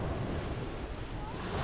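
Sea waves wash steadily along the Antalya waterfront, a broad continuous surf rush mixed with wind buffeting the microphone, close and fairly loud with no voices.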